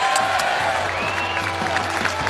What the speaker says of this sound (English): More applause for pizza.